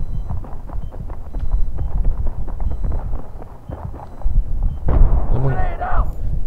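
Rapid bursts of Battlefield 3 gunfire with heavy booming blasts, continuous and loud, with a voice talking over it.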